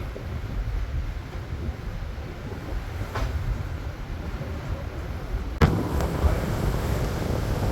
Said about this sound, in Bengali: নদীতে প্রচুর বাতাস আর সেই সাথে প্রচণ্ড ঠান্ডা